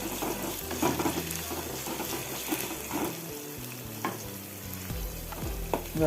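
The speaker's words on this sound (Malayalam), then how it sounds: "ഉരുളക്കിഴങ്ങ് ഒന്ന് നമുക്ക് വാട്ടിയെടുക്കണം എണ്ണയിലിട്ട് കുറച്ച് നേരം ഇങ്ങനെ ഇളക്കുമ്പോൾ തന്നെ വെന്ത് വരും" Potato pieces frying in hot oil for sabudana upma while being stirred, with steady sizzling and repeated scraping strokes of a spoon against the pan.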